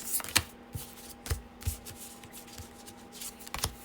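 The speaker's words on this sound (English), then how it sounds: "And I will just start shuffling." A deck of cartomancy cards is shuffled by hand, giving several short riffling bursts and soft taps over a quiet room hum.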